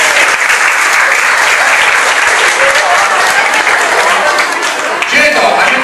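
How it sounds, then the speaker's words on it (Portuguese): A school audience applauds a karate team after a demonstration, dense steady clapping filling the room loudly and evenly from start to finish. "Palmas para a equipe."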